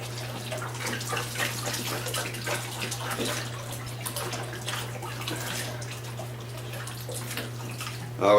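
Hot tap water runs steadily into a sink while hummingbird feeders are washed with dish soap: a continuous splashing rush with a low hum beneath it and a brief louder knock at the end.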